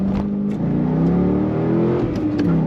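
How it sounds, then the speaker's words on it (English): A 2006 Chevrolet Corvette convertible with a 6-speed manual accelerates hard, its engine a loud, close, rising growl that swells without a break and has no voice over it. "Excellent sound coming out of this car."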